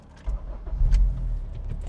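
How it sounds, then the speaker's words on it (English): Turbocharged ninth-generation Honda Civic Si engine starting: a brief low cranking rumble that catches and settles into a steady idle, close and fairly loud. "Let's get our engine fired up here real quick."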